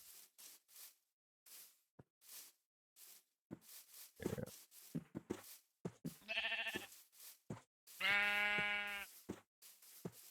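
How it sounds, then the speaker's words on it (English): Minecraft sheep bleating in a retro-style game world, several wavering baa calls of varying length scattered between short clicks and game noises, the last bleat long and loudest. "There's more sheep over there"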